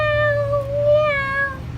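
A person imitates a cat, giving two loud, close, drawn-out meows with a short break between them.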